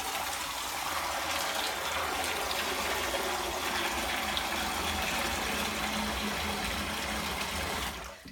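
Cold tap water gushes steadily over freshly cooked, strained pasta, a continuous close splashing hiss that runs unbroken for several seconds before cutting off at the very end.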